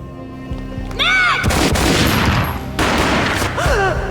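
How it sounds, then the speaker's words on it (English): Gunfire in Max Payne, the first game: two heavy, booming shots, each followed by a dense burst of echoing fire, separated by a short pause with a brief whooshing effect. "A gunshot boomed and she fell down in slow motion."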